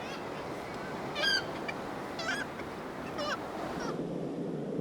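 Seabirds calling at a breeding colony on Icelandic sea cliffs, a few loud honking, goose-like cries rising over constant surf and wind, spaced about once a second.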